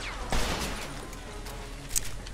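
Tommy gun fire in Mafia 2, a sharp close burst followed by scattered fainter shots and a second crack over a low, steady game-world background.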